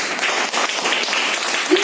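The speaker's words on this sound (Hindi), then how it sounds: "तो तालियां होनी चाहिए।" Steady applause from a seated audience at a talk, even clapping throughout.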